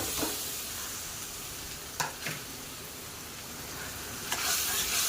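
Mashed potatoes hit a hot pan and fry with a low, even sizzle, broken by two or three brief scraping stirs, fairly quiet and close with no talking.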